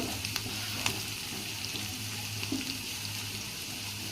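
Capsicum sizzling and frying in a pan while a curry cooks, a steady soft crackle running throughout with a low hum beneath and a few faint clinks.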